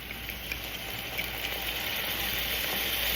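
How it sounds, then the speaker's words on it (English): White wine hits a hot pan of tender onion and garlic, producing a continuous steady sizzle and hiss, close and fairly loud, with no talking. "Into this, the white wine."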